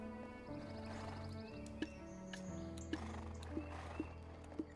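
Horses neighing and whinnying with steady clip-clop of hooves in Black Desert Online, a few sharp hoof or click accents over a continuous game ambience, no talk.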